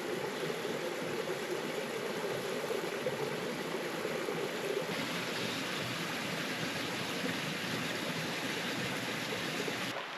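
A river stream flowing near San Carlos Falls on a hiking trail in Guam, a steady, full rushing of water that carries on unbroken throughout, close by and fairly loud.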